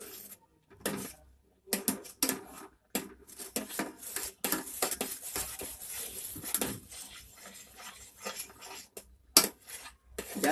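A spoon stirring Maggi cheese macaroni in a pot, irregular clinks and scrapes of metal against the pan in quick bursts with short pauses, fairly quiet and close.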